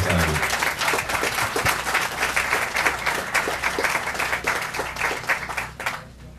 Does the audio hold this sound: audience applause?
yes